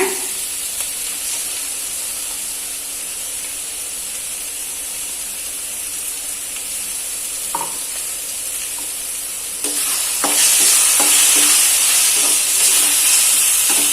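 Tomatoes frying in a pan for prawn gravy, with a steady bright sizzle and occasional scraping stirs; the hiss swells louder near the end as fresh moisture hits the hot oil.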